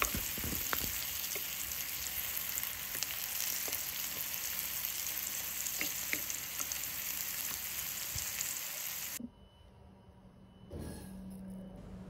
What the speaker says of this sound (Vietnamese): cái này chiên cho nó chín mềm mềm thôi